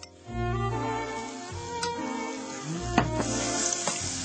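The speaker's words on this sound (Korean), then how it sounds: "이제 잣가루와 파, 마늘을 넣고 볶기만 하면 되는데요" Pine nut powder, green onion and garlic stir-frying in a pan, a steady close sizzle that pauses briefly, then resumes with a few utensil clinks and scrapes.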